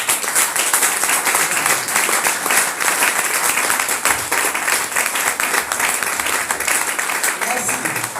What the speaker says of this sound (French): je voudrais qu'on acclame très fort